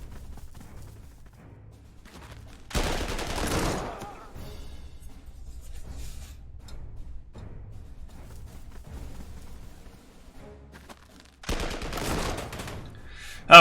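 A heavy weapon team opens fire in the WWII strategy game Panzer Corps 2 during the 1942 Stalingrad campaign. Two loud, crackling bursts of gunfire ring out several seconds apart, with quiet stretches between them.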